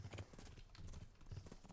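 Horse hooves clip-clop in the video game Kingdom Come Deliverance, a steady close walking rhythm of paired thuds, faint, without speech.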